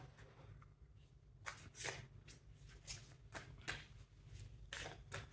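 Oracle cards riffled and flicked at close range in a series of crisp, papery bursts and snaps, irregular and quiet over a faint steady background hum.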